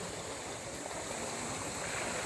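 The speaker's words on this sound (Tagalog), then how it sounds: "Tuloy-tuloy tubig." Spring water at Logarita Spring in Bilar rushes steadily in a close, continuous, even wash with no pauses and no voices.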